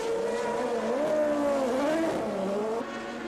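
A 1982 Formula One race car spins off the track, its engine note wavering and falling as the tires scrub and skid. It is brief and moderately loud, with a steady rising and falling whine.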